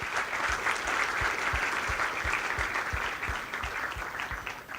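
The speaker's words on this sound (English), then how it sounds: "A big round of applause for them" Audience at a Teachers' Day celebration applauds the teachers, a dense, steady wash of clapping from a large crowd that holds loud throughout and eases slightly toward the end.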